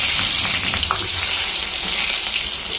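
Garlic, onion, chilli and potato fry in hot oil, a loud, steady close-up sizzle that carries on without a break.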